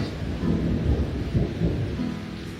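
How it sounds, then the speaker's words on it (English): Rain pours steadily in an autumn thunderstorm around a cottage, with deep thunder rumbling in several soft swells under the constant hiss, heard from indoors at moderate distance. "Listen to the storm."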